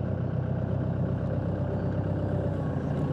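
A piece of equipment's engine runs at a low, steady rumble as it creeps slowly up a Diamond C trailer, with no change in pitch and no one talking.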